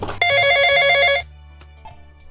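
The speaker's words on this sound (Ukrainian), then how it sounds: "Хтось дзвонить. Телефон. Телефон дзвонить." A toy telephone rings loudly with a bright electronic bell trill for about a second, then cuts off, leaving quiet room noise and a faint knock.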